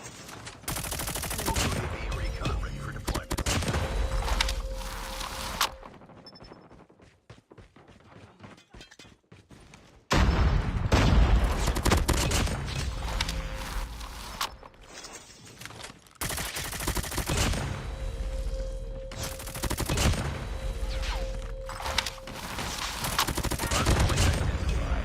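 Gunfire in Call of Duty: Mobile: dense bursts of rapid automatic fire and loud shots, broken by a quieter stretch, then renewed fusillades of close, loud shooting.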